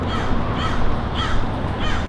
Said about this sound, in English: it got to be nothing but just the birds